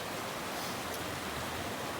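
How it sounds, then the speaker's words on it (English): A small waterfall on a stream spills over bedrock, making a steady, dense rushing roar that stays close and even throughout. "it comes down into another little waterfall, which is also pretty cool"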